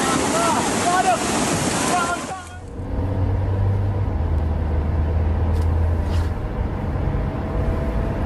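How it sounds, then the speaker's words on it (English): Flash flood water rushes through Wadi Al Sarmi in Oman over a road, a steady loud broadband roar of torrent and wind that continues throughout, with a low engine-like hum partway through. "Flash flood waters rushed through Wadi Al Sarmi in Oman, turning the road into a dangerous river within seconds"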